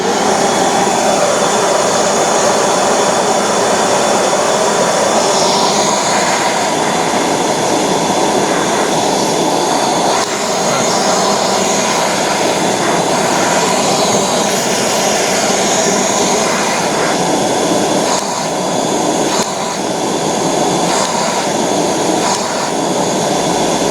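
A Kenmore Elite 31150 canister vacuum cleaner with its pre-motor filter and post-motor HEPA filter fitted and no bag runs continuously, a loud close steady roaring whine with no talking.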